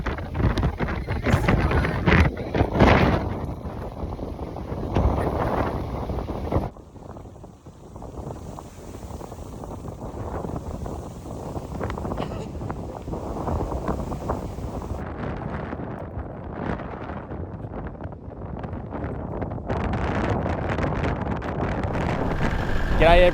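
Strong, gusty wind buffeting the microphone outdoors in the Flinders area along the Oodnadatta Track, a loud continuous roar that eases briefly midway and builds again, with no talk over it.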